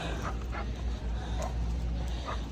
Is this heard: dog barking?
yes